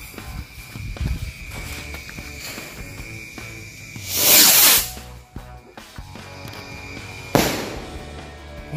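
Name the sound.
jumbo launching firecracker (mercon luncur) going off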